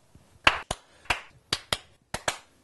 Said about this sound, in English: We should get the clapping done.